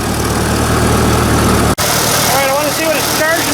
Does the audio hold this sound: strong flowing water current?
no